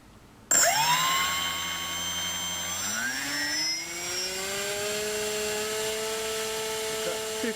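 An electric motor on a Hobbyking Funfighter Spitfire model spins its stock propeller off a 3-cell battery, starting abruptly into a steady whine that rises in pitch as throttle increases, then holds a loud, even drone.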